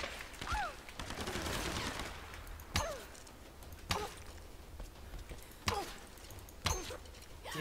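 Gunfire in the Tomb Raider video game: a rapid burst of shots, then single sharp reports spaced a second or so apart, each loud and close against faint background noise, with no talk.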